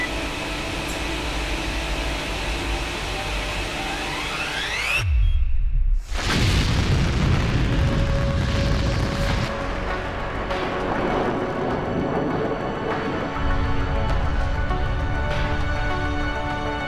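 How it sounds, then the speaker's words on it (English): An electrodynamic launch-assist liftoff in the game Deus Ex: Human Revolution builds as a loud roaring rumble, cuts to a sudden whooshing boom, then gives way to a sustained mechanical roar with tonal hums. "Stand by for liftoff. Electrodynamic launch assist sequence commencing."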